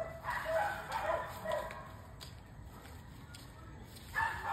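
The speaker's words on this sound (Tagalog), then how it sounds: "Mga aso." Dogs bark and yip faintly in the distance outdoors, with a few short barks spaced over steady background noise and one more bark near the end.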